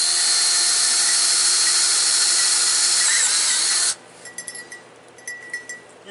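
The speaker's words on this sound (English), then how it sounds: "I forgot to drill the holes in the bottom of it." A power drill bores holes into the bottom of a metal cant hook pipe, a steady loud whine running about four seconds and then cutting off, followed by a few short, fainter scrapes and clinks.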